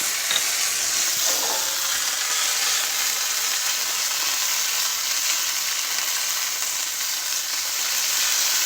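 Turmeric sizzling and frying in hot oil for a Persian eggplant soup, a steady close crackling hiss with light stirring throughout and no talk.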